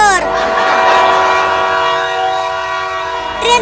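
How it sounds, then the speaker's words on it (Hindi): A toy train sounds a long, steady, tonal horn whistle that holds at high volume for over three seconds before a short burst at the end, close and alone. "ट्रेन ने सीटी बजा दिया"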